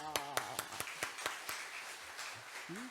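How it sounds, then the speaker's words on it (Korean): Church congregation at a Friday late-night prayer service claps in a brief run of distinct, evenly spaced claps, followed by fading applause and a voice near the end. "박수 치니까 기분이 좋으시죠?"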